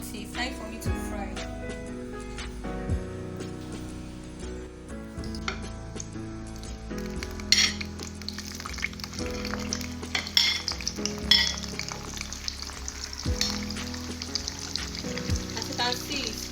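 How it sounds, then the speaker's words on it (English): Chin chin dough frying in hot oil, a continuous bubbling sizzle with intermittent clinks of a utensil against the pot, heard up close throughout. "It's time for me to fry."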